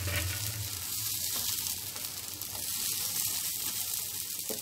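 Soybean kebabs fry in a little oil in a pan, giving a constant, close, hissing sizzle with faint crackles and no speech.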